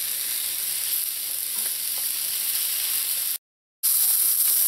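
Mushrooms browning in a pan without salt, a soft, even sizzle with faint scattered crackles, close but gentle, cutting out briefly near the end before resuming, no voices.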